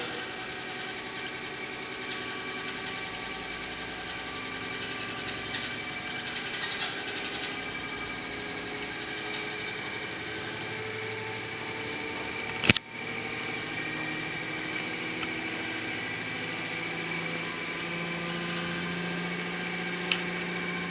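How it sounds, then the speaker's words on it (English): Electric motor in a university lab running steadily under voltage speed control from a power supply, a continuous mid-pitched hum with steady tones and one sharp click near the middle. "enable the power supply, the motor starts running, and then by varying the voltage or by increasing the voltage, I can increase its speed."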